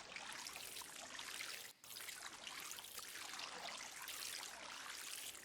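Water trickles and pours steadily from a watering can onto crops in Don't Starve, a soft, continuous splashing stream with one brief pause.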